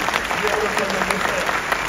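Audience applause during a French mayor's New Year address in Belfort, a continuous crowd of hands clapping, fairly loud and even, with a faint murmur of voices mixed in.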